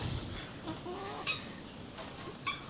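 Hens in the Philippines cluck softly over a steady background hum, with a few brief higher calls popping out at intervals.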